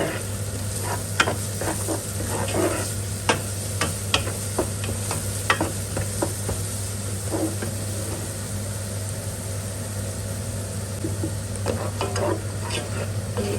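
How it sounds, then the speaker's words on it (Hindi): Garlic and ginger paste fries in masala for beef trotters (paya), with a steady sizzle and repeated scraping stirs of a spoon against the pan. No voices are heard. "अब इसे भी थोड़ी देर के लिए भून लेंगे"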